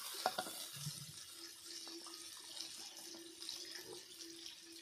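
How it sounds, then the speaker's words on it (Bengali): Water trickling and splashing from a tap into a cooking pan, a thin steady pour with light splashes, faint and close, with no talk over it. "অল্প একটু জল দিয়ে দিচ্ছি"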